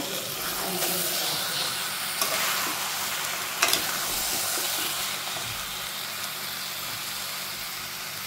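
Chicken pieces fry in oil in a pan with potatoes and fried onions as they are stirred down into a thick masala, giving a continuous soft sizzle and hiss broken by a few scraping strokes of the spoon.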